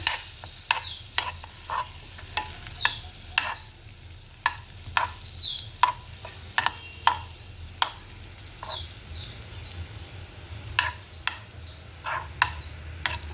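Chicken pieces frying in a hot pan for a calamansi chicken recipe give a steady, busy sizzle sprinkled with sharp pops and crackles, heard close with no voices.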